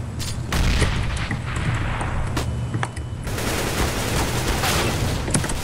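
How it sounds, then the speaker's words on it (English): Counter-Strike: Global Offensive gameplay with rapid bursts of automatic gunfire and booming grenade explosions, dense and loud throughout with sharp cracks piling over one another. "Grenade out!"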